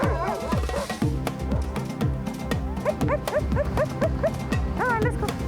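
Sled dogs on an Arctic expedition give excited barks and rising whimpers and yips, several dogs near and loud at once in a busy, irregular chorus, with faint human voices now and then.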